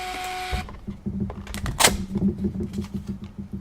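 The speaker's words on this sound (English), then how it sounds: "you've got yourself an instant printer" A small panel printer with a tear bar runs a print job, giving a fast buzzing, rhythmic whir of the thermal mechanism feeding paper, close and steady for several seconds after a brief click.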